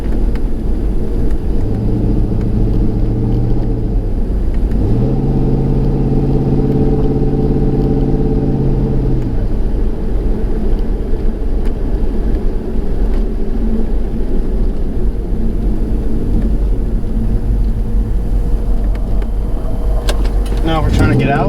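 A 1998–2002 F-body car with a 3600 stall torque converter cruising in regular driving, its engine a steady low drone inside the cabin with a couple of tonal shifts as the revs change, loud and continuous throughout.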